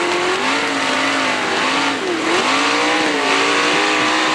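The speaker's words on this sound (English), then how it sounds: "Again, you can hear him running the throttle." A World of Outlaws sprint car at Lernerville Speedway roars at close range, its engine note rising and falling as the driver works the throttle, loud and continuous without a break.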